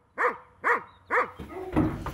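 Livestock guardian dog barking, three evenly spaced loud barks followed by a rougher, noisier bark burst mixed with background sound.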